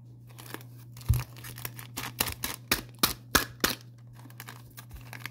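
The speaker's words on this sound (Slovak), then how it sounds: "A teraz by tam bol iba ten Tyranitar a ja ho rozstrihnem." Scissors snip through a Pokémon Tyranitar trading card in a series of sharp, close, uneven cuts and crisp crackles, over a steady low electrical hum.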